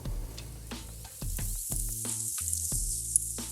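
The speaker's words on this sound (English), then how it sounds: "we're just gonna put the meat all around the perimeter of the heat source" Meat sizzling on a Weber Summit Kamado grill, placed around the perimeter of the heat source, a loud close hiss with sharp crackles and pops as pieces hit the hot grate.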